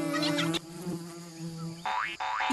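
Cartoon bees buzz in a steady humming drone, broken by short rising boing-like sweeps near the end, moderately quiet.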